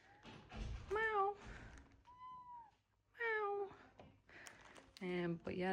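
A house cat meows indoors amid packed belongings during a move, giving a couple of clear, close meows between stretches of a person talking.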